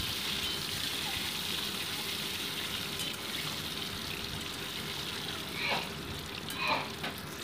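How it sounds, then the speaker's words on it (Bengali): Eggs coated in salt and turmeric sauté lightly in mustard oil, making a soft, even sizzle with a couple of brief utensil scrapes late on. "এবার নুন হলুদ মাখানো ডিমটাকে জাস্ট একটু সটে করে নিচ্ছি"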